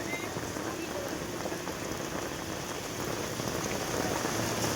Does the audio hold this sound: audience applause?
no